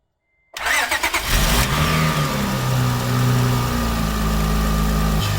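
A car engine cranks and catches after a transmission filter change, then idles and revs with a steady mid-pitched hum and a few throttle blips, close and loud throughout.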